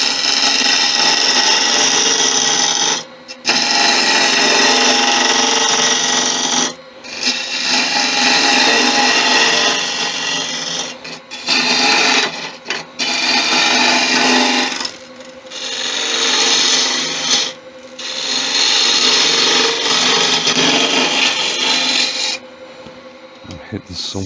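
A chisel scrapes and rasps against a Balinese teak chalice spinning on a wood lathe, loud and close in long continuous passes broken by brief pauses where the tool lifts off.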